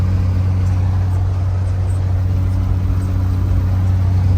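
Steady low drone of a car interior on the move, an hour-long drive home after picking up seats, engine and road rumble constant and fairly loud throughout with no talking.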